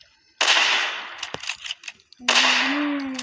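Gunfire in a zombie shooting video game as a TNT-carrying zombie is shot, heard as two loud bursts of rapid shots separated by a short pause, with a ringing tone trailing the second burst.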